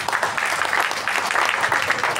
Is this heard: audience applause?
yes